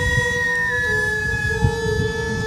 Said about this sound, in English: Sounds like an air raid siren.